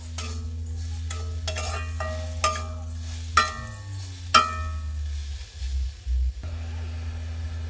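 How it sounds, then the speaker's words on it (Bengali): Grated coconut cooked with jaggery is stirred in a pan with a spatula, sharp scraping knocks arriving in an irregular rhythm over a low, quiet sizzle, close and alone. "এইভাবে নাড়তে থাকবো"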